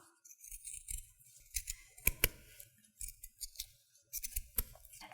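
Scissors snip through the fabric edges of a homemade sleep mask in a series of short, close, crisp cuts with small pauses between them, no voices.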